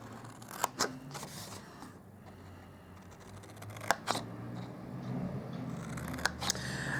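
Scissors cutting paper for a Christmas pizza-box card project, giving a run of crisp snipping and crunching cuts at close range, with a few louder sharp snips standing out.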